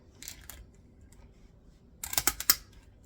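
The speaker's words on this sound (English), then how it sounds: "I have a pair of, they're called kitchen shears, so you can cut a chicken with them" Kitchen shears snipping through a lobster tail shell: a faint pair of clicks early on, then a close cluster of sharp crunching cuts about two seconds in.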